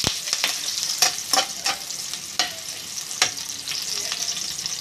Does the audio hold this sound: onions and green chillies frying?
yes